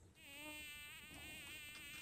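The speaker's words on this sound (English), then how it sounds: "Got a bee buzzing me." A bee buzzes close by outdoors during a muzzleloader rifle session, a thin whining drone rising in pitch and lasting almost two seconds before a sharp click.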